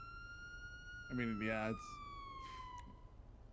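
Police car siren from a GTA V roleplay game, a sustained wailing tone sweeping slowly downward, steady and moderately loud, while a person speaks briefly over it in the middle.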